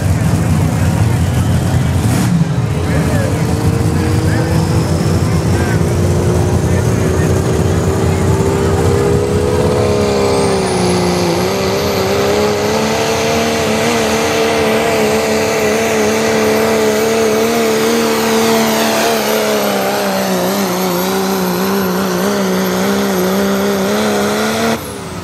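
A diesel pickup truck at a 2.6 diesel class truck pull in Columbus, its engine roaring loud and sustained under strain while the pitch climbs and shifts through gears.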